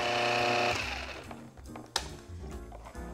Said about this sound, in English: put this in the food processor and blend it together so all the ingredients mix well